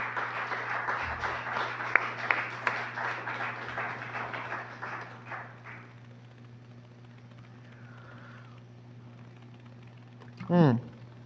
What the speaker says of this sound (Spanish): ¿Cuántos le dan un aplauso al Señor, hermanos, en esta mañana?